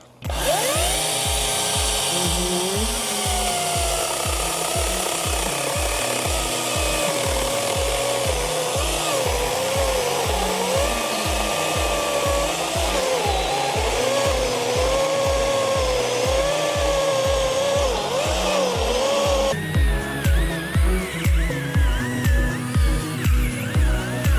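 A Dnipro-M DCS 201BC cordless chainsaw with two batteries revs steadily and bites through a thick tree stump, its motor straining under load, then pulses in short bursts near the end.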